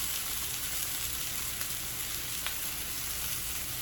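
Chicken searing in a hot pan, a dense, steady sizzle with a couple of faint clicks from the pan, close and continuous.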